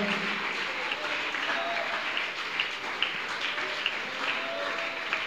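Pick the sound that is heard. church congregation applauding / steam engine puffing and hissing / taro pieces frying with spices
church congregation applauding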